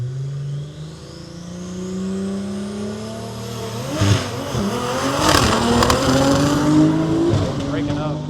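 A BMW accelerates hard down the drag strip at MIR, its engine note climbing through gear changes with a brief tire chirp, loud and close, while a commentator talks over it.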